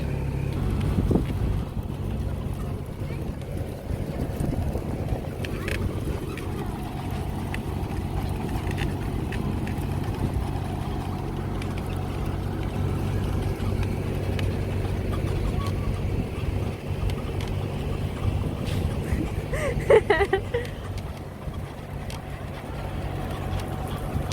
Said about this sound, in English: The cars are kind of killing the vibe here.